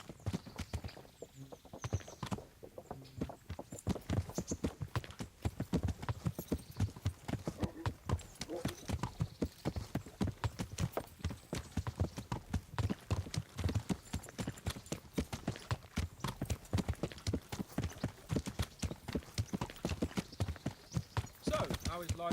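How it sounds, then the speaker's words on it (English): Steady clip-clop of horse hooves trotting at a regular rhythm throughout in the video game Kingdom Come: Deliverance, loud and close, with voices talking over it at times. "Horse is too slow."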